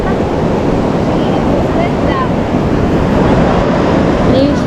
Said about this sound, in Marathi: तर आता आम्ही आलो आहोत आरेवारे बीचला